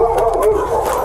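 A dog at a police trespass call gives a short, loud burst of barking and yelping, close by and filling the moment with little else around it.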